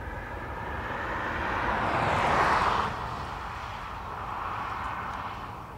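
An Aer Lingus airliner, Shamrock 49, takes off from runway 28 right at Dublin Airport, a steady broadband jet roar swelling to a peak midway and then easing off at a moderate distance.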